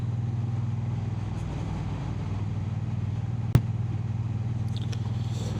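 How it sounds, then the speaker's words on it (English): A Triumph Bonneville T100 motorcycle rumbles steadily while being ridden, its low exhaust drone constant throughout, with one sharp click or knock partway through and faint wind noise, no voices. "I thought the exhausts were a bit loud today"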